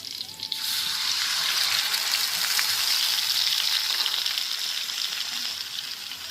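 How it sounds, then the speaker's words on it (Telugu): Green chilli and onion paste sizzles in hot oil in a pan, a steady loud frying hiss that starts abruptly and carries on without talk. "తగినంత ఆయిల్ వేసుకోవాలి పచ్చిమిర్చి ఉల్లిపాయ పేస్ట్"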